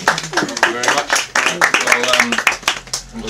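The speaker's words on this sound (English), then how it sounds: "You can clap at that juncture whilst I just find it." An audience claps at a live opening act in a lounge. The applause is dense and steady at close range, with a voice talking over it throughout.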